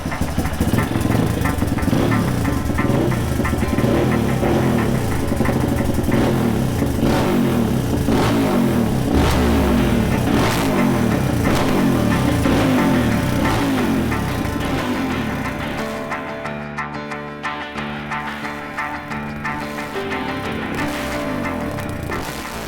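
A Honda CRF230F dirt bike with a 240 big bore kit, adjustable big cam and larger intake valve runs close by, revving repeatedly with a rough, clattery single-cylinder bark, then settling to a lower idle near the end.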